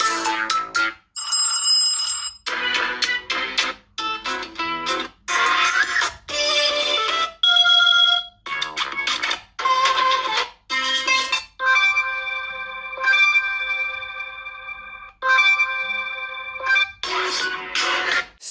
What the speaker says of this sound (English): Standard old ringtones